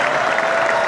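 Live audience at a Las Vegas show clapping for roller coasters: a second of dense, steady applause from a crowd, fairly loud and close, with no speech.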